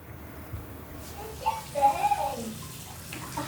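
Tap water runs steadily into a bathroom sink as a child gets ready to brush teeth, a faint, continuous hiss with some soft splashing under quiet room sound.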